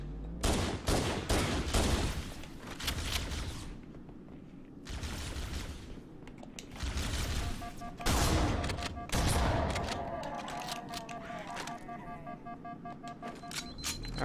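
Repeated pistol fire in the Halo video game, sharp shots coming in bursts and clusters across the stretch, loud and close, with combat noise between volleys and no speech.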